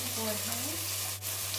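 Asparagus cooking in oil with a pinch of salt in a pan, a soft continuous sizzle under a low steady hum, fairly quiet and close, with a brief scrape partway through.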